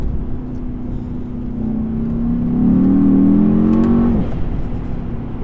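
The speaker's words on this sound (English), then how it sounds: "You can actually feel your eyes move backwards in your head when you put your foot down in this thing" A 2019 Mercedes E63S engine pulls hard under full throttle, a rising loud drone building for several seconds before a sudden drop at the shift, heard from inside the car over steady road noise.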